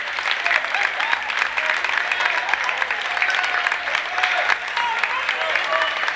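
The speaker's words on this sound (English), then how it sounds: "nice round of applause" Sustained applause from a crowd at a youth basketball championship, dense steady clapping throughout, fairly loud and filling the space, with faint speech mixed beneath.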